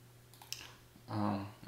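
Quiet clicks and light key taps on a computer keyboard, near and soft, followed by a brief burst of faint voice-like noise.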